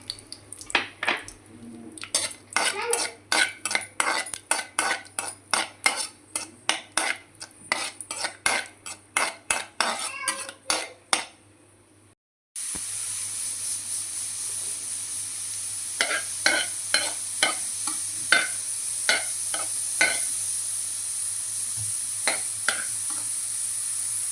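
Raisins fry in ghee in a pan, with many sharp metal stirring clinks over a faint sizzle, then a louder steady hiss of frying with fewer, softer scrapes.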